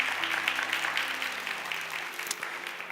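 A church youth-service congregation claps during a gift presentation, a steady crowd applause of moderate level with a low sustained hum beneath it that fades out partway through.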